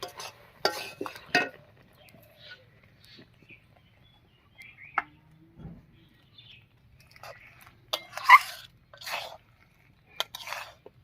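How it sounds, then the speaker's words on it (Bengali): Spices are stirred into a chalta (elephant apple) pickle in a pan, giving intermittent scraping and clinking of a utensil against metal in short bursts, with quiet gaps between them. "মশলাটা দিয়ে খুব ভালো করে মিশিয়ে নিলাম"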